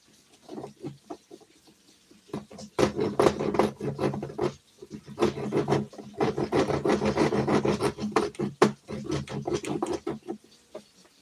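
A small handsaw works through material in uneven bursts of close, rasping back-and-forth strokes, with short pauses between runs of cutting.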